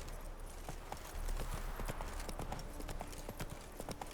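Roach the horse galloping in The Witcher 3, a steady rapid clip-clop of hooves that keeps up throughout at moderate volume, with faint talk in the background.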